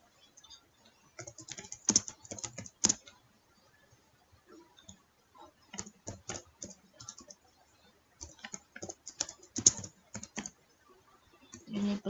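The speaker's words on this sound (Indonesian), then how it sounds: "Kita ketik di sini" Fingers type on a computer keyboard in quick bursts of crisp, close clicks separated by brief pauses, entering text into Microsoft Word, quiet and with no speech.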